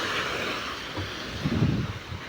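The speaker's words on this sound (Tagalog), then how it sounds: "kita niyo naman po kung gaano kalakas ang hangin dito sa amin sa tabing dagat." Strong seaside wind roars steadily against the microphone beside a fishing boat, a dense continuous rush with low buffeting thumps swelling midway.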